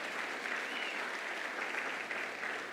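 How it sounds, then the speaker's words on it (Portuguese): A congregation at a Portuguese-language church service breaks into steady, sustained applause that fills the room, with no speech over it. "vamos aplaudir esse pessoal, gente?"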